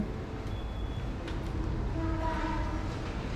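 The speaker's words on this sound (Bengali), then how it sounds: "এই যে ট্রেন যাচ্ছে" A train passes near a hotel in Sri Lanka, a steady low rumble with faint horn-like tones coming through, heard at a moderate distance.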